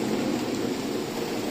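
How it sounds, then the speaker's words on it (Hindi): Heavy monsoon-style rain pouring down steadily, a dense, even hiss of falling water with no breaks, moderately loud and with no voices over it. "बारिश शुरू हो गई, बारिश भी बहुत बढ़िया वाली, झमाझम एकदम"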